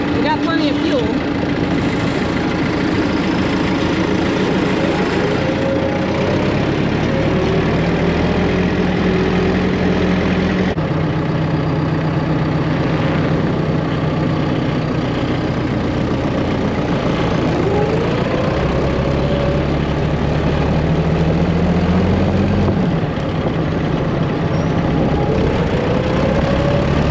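An engine-driven welder idles on a farm during haylage baling season, a steady low rumble with rising and falling engine tones, while a person talks over it.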